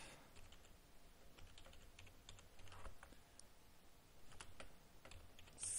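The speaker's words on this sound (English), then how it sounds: "type the following at the command prompt" Rapid clicking keystrokes on a computer keyboard while entering a command at a command prompt, irregular bursts of taps with short pauses, quiet and close.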